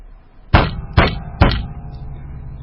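A fist strikes a table three times, imitating a judge's gavel: loud, close, evenly spaced heavy thumps, each dying away quickly, with no talking.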